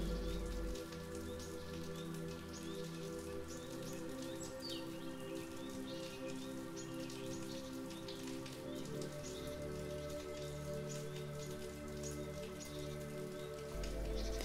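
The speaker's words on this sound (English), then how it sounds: "the rain's gentle rhythm makes you feel more peaceful" Gentle rain patters steadily and close by, a soft continuous shower of drops with faint birdsong and a low tonal bed of ambient music underneath.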